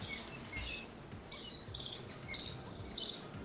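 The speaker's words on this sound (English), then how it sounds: "Are there birds where you're at right now?" Faint outdoor chirping, high and repeated in short bursts, sits over a steady background hiss.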